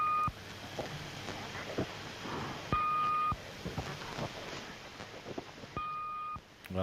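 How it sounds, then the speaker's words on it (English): Recorded number station transmission giving repeated steady electronic beeps, each a sustained tone lasting about half a second, over a hissy, noisy background. "This one's just beeping."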